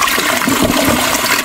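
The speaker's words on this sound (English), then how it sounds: "We're just going to throw in the sound of a toilet." A toilet flushing in a steady, loud rush of water that fills the short recording from start to finish, with no voices over it.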